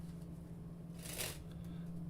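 A deck of playing cards is shuffled by hand at a magic show, a soft brief riffling burst rising over a low steady background hum, faint and close.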